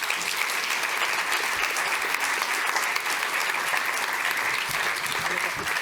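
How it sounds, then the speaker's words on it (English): An audience applauds steadily for a panel of speakers at the launch of the Greater Manchester International Strategy, a dense, even burst of clapping lasting several seconds. "So if you'll give them all a round of applause."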